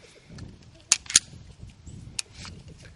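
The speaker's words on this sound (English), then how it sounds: "It locks back with an empty magazine." A SCCY CPX-1 pistol slide locks back on an empty magazine outdoors, giving two sharp, close metallic clicks about a quarter second apart, followed by a few fainter clacks.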